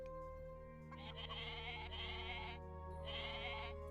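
A goat bleats twice in a video game, each a drawn-out, wavering cry over a steady background hum.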